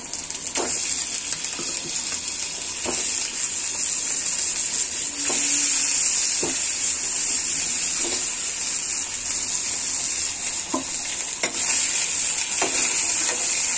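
Rui fish coated in turmeric fries in hot oil, giving a constant loud hiss and bubbling sizzle, close by, with occasional clicks and scrapes of stirring.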